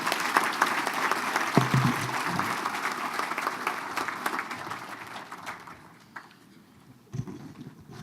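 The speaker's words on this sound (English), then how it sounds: "Can we please give a round of applause to our second group of nominees?" Audience applause for a group of award nominees at an awards ceremony, loud, dense clapping from a crowd that gradually thins out and fades, with a few last scattered claps at the end.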